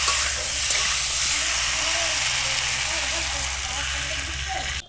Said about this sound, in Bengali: আলু ডাঁটা কষিয়ে নিয়ে জল দিয়ে দিচ্ছি।